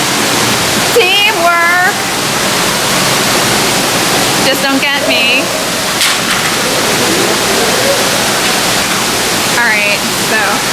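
Rushing water at a science museum water exhibit in the Center of Science and Industry, a steady broadband splash and flow running loud throughout, with people talking over it now and then.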